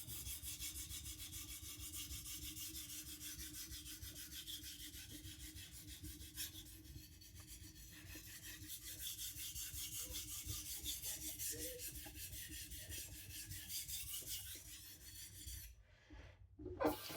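A knife blade rasps steadily back and forth across a diamond sharpening plate in a long, even grinding stroke, close and alone, ending with a brief pause and a knock.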